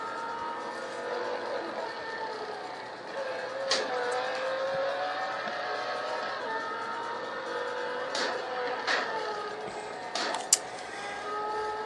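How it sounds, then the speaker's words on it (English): Engines of a 1969 Corvette Stingray and a Dodge Charger in the Real Racing 3 racing game, a continuous droning roar with shifting pitch, brief tire squeals and a few sharp knocks scattered through the run. "So now there's Hamid again in his 69 Corvette Stingray, getting around a slow Dodge Charger."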